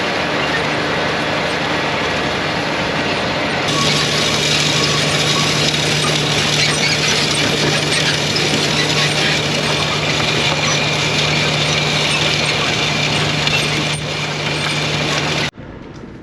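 Cotton planter running on an Alabama field, heard from a rider aboard: a steady, loud engine drone with broadband mechanical rumble and a constant low hum, continuing unbroken until it cuts off near the end.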